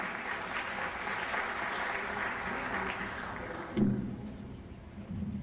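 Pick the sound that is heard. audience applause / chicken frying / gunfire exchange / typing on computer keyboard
audience applause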